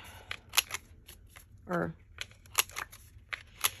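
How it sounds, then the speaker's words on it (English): Scissors snip around the edges of a sheet of paper, giving quick crisp cuts in short clusters with a papery rustle in between, close to the mic, under light talk. "So let me cut the edges."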